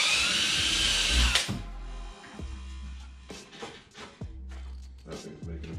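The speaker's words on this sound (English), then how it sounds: "if I drill right here, right in the corner, and right here in the corner, it should line up each one just fine" A power drill bores holes in a DIY kayak crate for rod and tackle storage, with one loud, high whirring burst up close that stops abruptly and gives way to quieter handling sounds.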